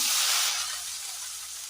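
Spinach with salt and spice mix frying in hot oil with mustard seeds for Kerala thoran, a steady close hiss and sizzle that eases slightly after the first half second, with no voices.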